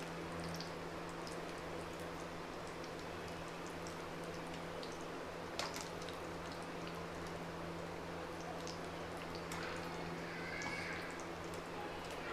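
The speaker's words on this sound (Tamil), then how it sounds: "இது எல்லா பக்கமும் நல்லா கோல்டன் ப்ரௌன் ஆகுற வரைக்கும் நம்ம ஃப்ரை பண்ணி எடுத்துக்கலாம்" Breaded potato fingers, coated in egg and breadcrumbs, fry in hot oil until golden brown, giving a steady, faint, even sizzle with a low hum underneath and no talking.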